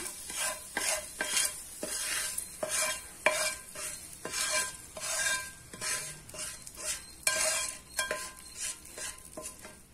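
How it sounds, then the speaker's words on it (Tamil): A tempering is poured into cooked toor dal with tomato and sautéed onion for Andhra-style tomato pappu, and it sizzles softly while a utensil stirs and scrapes the pot in repeated sharp strokes, with no voices. "இப்போ தாளிப்பாய் இதில் போட்டுடலாம்"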